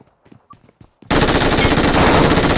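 Sudden sustained machine gun fire in the PUBG Metro Royale video game bursts in after some quiet clicks and shuffling, a loud dense rapid stream of shots that keeps going to the end.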